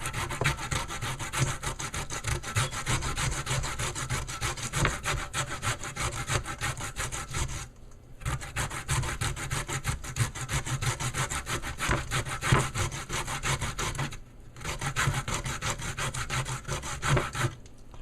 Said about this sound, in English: I'm just gonna show you the finishing grating of the cassava.